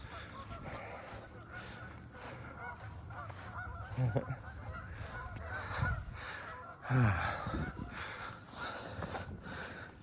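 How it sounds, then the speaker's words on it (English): Several geese honk at intervals over a steady outdoor background hum, with a couple of louder calls standing out mid-way. "Geese are honking this morning."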